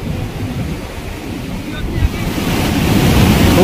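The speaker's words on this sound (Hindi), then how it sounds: "ग्लेशियर और ये बहता हुआ पानी" Glacier meltwater flows at Chandanwari near Pahalgam, a continuous loud rushing wash mixed with gusty wind buffeting the microphone, steady throughout with no talk.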